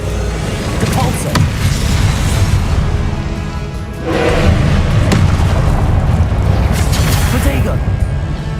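Depulso spell cast in the Hogwarts Legacy video game, a series of deep booming blasts and bursts over a continuous game soundscape, loud and close, with a sharp surge around the middle.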